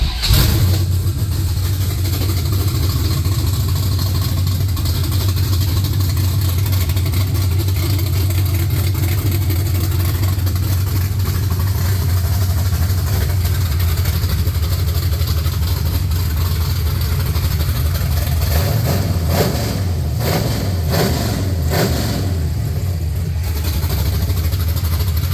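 An LS-swapped car engine runs at a steady, loud idle with a deep low rumble throughout, and rough bursts of revving and clatter near the end.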